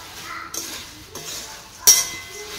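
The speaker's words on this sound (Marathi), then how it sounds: "चुरमुरे टाकून छान मिक्स करून घ्यायचं" Fresh chivda being tossed with puffed rice in a pan, giving a few soft scraping and clinking strokes of a spoon against metal, with one sharper clink near the end, fairly quiet and without talk.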